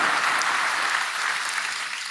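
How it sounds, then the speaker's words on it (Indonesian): A church congregation at a worship service claps together in a dense, even burst of applause lasting a couple of seconds, full and close with no talk over it. "Ya, berikan tepuk tangan untuk Tuhan,"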